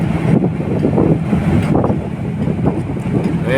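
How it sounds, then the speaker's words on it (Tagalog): Strong wind blows at sea in the North Sea near Aberdeen aboard a vessel, a constant loud rushing buffet battering the microphone, with low rumbling gusts and no talk. "medyo mahangin ngayon rito sa North Sea, bandang Aberdeen"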